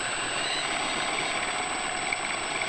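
A powerful brushless motor drives a belt through 3D-printed pulleys to spin a carbon axle carrying rotor wings. It makes a loud, steady, close whine and whir with no break across the clip.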